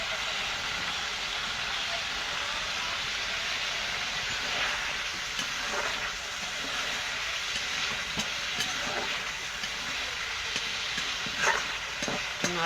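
Magur fish curry sizzles and fries steadily in a pan while being stirred, a continuous close crackle with occasional scraping clinks over the whole stretch, with a voice talking over it at times.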